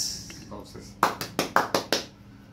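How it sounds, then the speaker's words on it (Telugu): A short burst of hand claps, about seven sharp claps in an uneven rhythm, welcoming a guest at a Surabhi mythological drama event, following some brief talk at the start. "క్లాప్స్."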